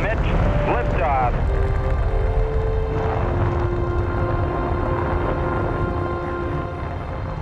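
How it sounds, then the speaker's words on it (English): Saturn V rocket engines thunder at the Apollo 12 liftoff, a loud continuous rumbling roar with wind buffeting, while radio voices with steady tones sound over it. "All engines running, commit, liftoff."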